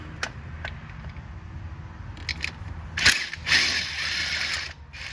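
A ratchet with a 13mm deep swivel socket works on transmission bolts during removal of an 8L90 transmission from a Chevy Silverado. Short clicking bursts come first, then a louder crack and sustained close ratcheting.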